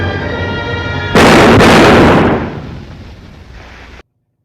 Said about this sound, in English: Walter shoots Phyllis